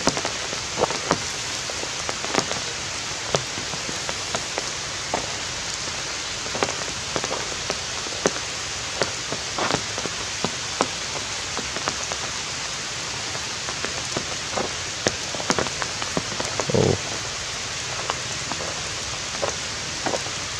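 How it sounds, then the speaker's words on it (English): Light rain falls steadily outdoors in the evening, a continuous close patter of drops with scattered louder taps on surfaces throughout and no voices. "But right now it's not very heavy rain."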